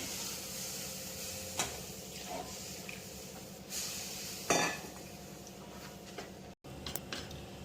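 Vermicelli kheer with milk being stirred in a pot, a spoon giving a few soft clinks and scrapes against the metal over a low, steady background, with no talking.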